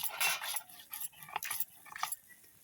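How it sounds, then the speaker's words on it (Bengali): Spices ground by hand on a stone grinding slab (shil-pata) in a home kitchen, giving a series of uneven scraping, rubbing strokes, fairly close and moderately loud, with no talking. "ওই পাশে মা এখন মশলাটা বেটে নিবে।"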